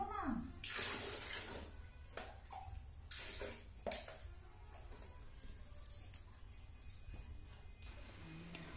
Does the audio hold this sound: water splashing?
yes